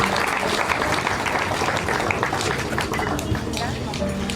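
Crowd of funeral attendees applauding and cheering for the children and grandchild returning to their seats, a dense, steady wash of clapping with voices mixed in, loud and continuous throughout.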